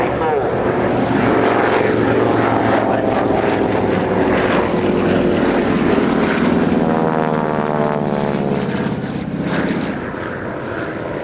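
Avro Anson twin-engine aircraft flying at the Old Warden airshow, a loud continuous propeller drone with shifting harmonics, heard close and steady with some speech-like voice faintly underneath.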